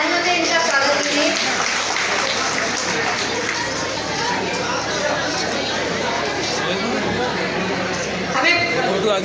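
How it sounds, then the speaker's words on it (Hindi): Audience at a college annual function in Karhal fills the space with sustained, dense applause mixed with crowd chatter, steady and loud throughout, swelling slightly near the end. "सामने बेटी के जोरदार तालियों से इनका स्वागत कीजिए।"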